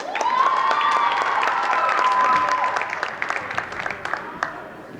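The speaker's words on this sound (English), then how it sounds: "let's have one more round of applause for our amazing senior basketball captains" A high school gym crowd applauds senior girls' basketball captains, dense clapping and some cheering with a sustained whistle-like tone early on, tapering to scattered claps near the end.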